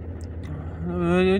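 Opel Vivaro van engine idling at low revs with a steady, close low hum and regular pulsing; a voice begins over it near the end.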